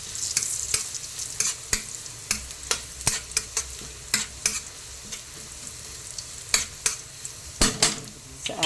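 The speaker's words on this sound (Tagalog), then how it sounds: "So, magigisa na tayo ng ating bawang." Garlic sautéing in a pan: a steady, moderate sizzle with frequent quick scrapes and clicks of a stirring utensil, close by.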